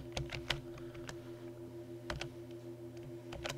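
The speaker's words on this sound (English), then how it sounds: "I'm going to type Randy's" Keys on a keyboard are tapped in short, sparse bursts of quiet clicks, a few separated keystrokes over a low steady hum, with no talking.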